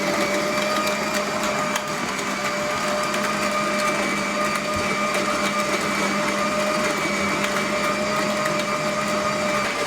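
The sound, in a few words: grinding corn into meal for corn bread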